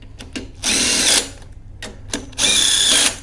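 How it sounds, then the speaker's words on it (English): A power drill drives a bolt into a threaded hole while a Harmar AL580 HDX swing-away lift is assembled. It makes two loud, sustained whirring bursts, each preceded by brief short revs. "when you use your drill, it should go right through because it's treaded"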